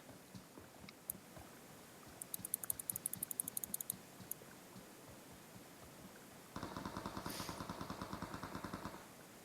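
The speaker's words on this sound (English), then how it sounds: "Landing a couple shots onto Butters right there." Gunfire in a competitive multiplayer shooter game: a burst of sharp, rapid shots sounds first, followed by a sustained, louder stream of automatic fire, all over a steady background hum.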